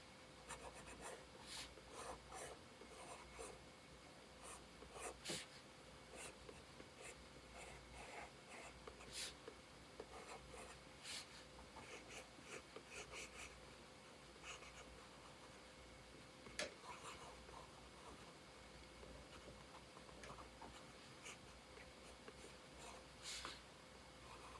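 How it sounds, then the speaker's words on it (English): Soft, steady scratching of a Derwent Inktense watercolor pencil on paper, with light strokes and occasional taps, close and quiet throughout. "I'm just drawing a line for her lips because I'm going to use a colored pencil there."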